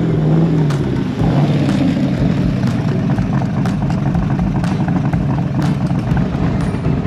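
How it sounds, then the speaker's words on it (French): An AC Cobra 289 V8 driven through the town centre of Propriano, with a loud, close engine rumble that is burbly and uneven, along with faint ticks and clicks on top. "Voici à quoi ça ressemble d'être dans un centre-ville en Cobra."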